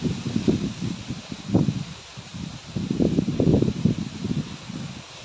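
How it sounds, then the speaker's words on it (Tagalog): Strong wind rushes through trees in uneven gusts, with leaves rustling loudly and the roar swelling and easing nearby. "napakalakas ang hangin."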